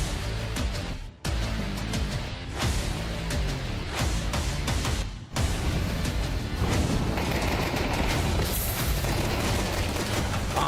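Counter-Strike match gunfire, Glock pistol headshots among dense bursts of shots and booms, loud and continuous with brief gaps, under busy game noise.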